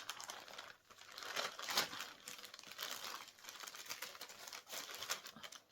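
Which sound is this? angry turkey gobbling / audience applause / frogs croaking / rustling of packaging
rustling of packaging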